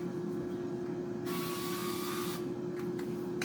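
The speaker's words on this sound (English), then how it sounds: "I'm going to go ahead and give it a good spray with this olive oil" Olive oil spray mists over cut potatoes, a steady close hiss of about a second that stops abruptly, set over a constant low hum.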